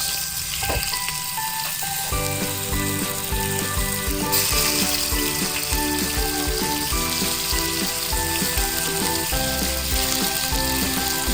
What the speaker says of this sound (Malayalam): മെൽട്ടായതിന് ശേഷം നമുക്ക് ഇതിലേക്ക് നേരത്തെ പരക്കി വെച്ച ചിക്കനില്ലേ അതെല്ലാം ഓരോന്നോരോന്നായിട്ട് ഇട്ട് കൊടുക്കുക